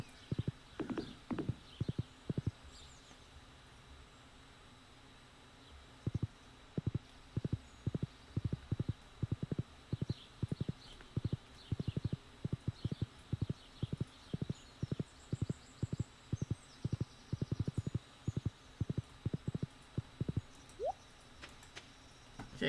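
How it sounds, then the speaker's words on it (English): A modded Stardew Valley tractor built on the horse asset gives off horse clip-clop hoofbeats, a long run of quick, regular clops at moderate volume with brief pauses and occasional faint game chimes. "Yes, the tractor is making clip-clop noises."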